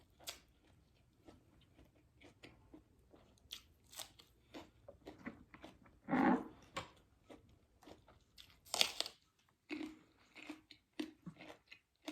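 Close, crunchy chewing of crisp green onions eaten with miang moo, a Thai pork leaf wrap with sweet dipping sauce, heard as irregular bites and crackly mastication with short pauses and a few louder crunches.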